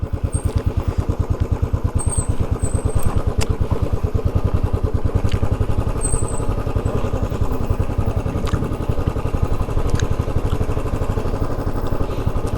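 A vehicle creeps down a very steep hill road under engine braking, its engine thrumming in a fast, even pulse, loud and close, with faint clicks and rattles over the top.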